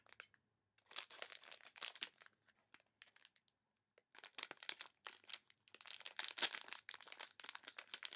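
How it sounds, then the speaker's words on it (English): A plastic bag crinkles close by during a subscription-box unboxing, in bursts of crackling handling separated by short quiet gaps. "Okay, guys, a plastic bag."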